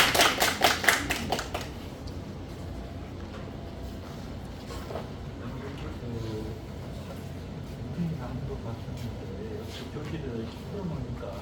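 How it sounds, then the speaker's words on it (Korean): An audience in a classroom at Hangzhou University claps to welcome a lecturer, a short burst of applause that fades quickly into people talking. "자, 그럼 이제 박수로 모셔듣겠습니다"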